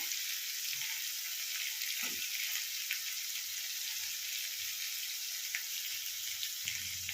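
Diced onions sizzle steadily in a hot pan for Tibetan thukpa, a soft continuous frying hiss with a few faint stirring knocks, no voices.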